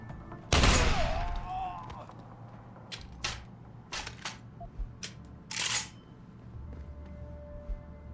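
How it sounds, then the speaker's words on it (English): A double-shot video game shotgun fires two blasts in one trigger pull, a sharp loud burst near the start followed by scattered fainter pops and bangs, with background game noise throughout. "I do like a shotgun that shoots twice in 1 trigger pull"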